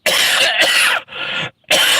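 A harsh, loud coughing fit from a person with chest congestion, two rapid bursts of hacking coughs with a short gap between them, close to the microphone.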